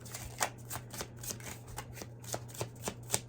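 Tarot cards are shuffled by hand, a close, quiet series of soft riffling snaps and slaps in an uneven rhythm, over a low steady hum.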